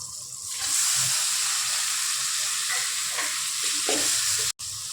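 Onions frying in a pan, a steady close sizzle with occasional stirring scrapes and crackles, no voices.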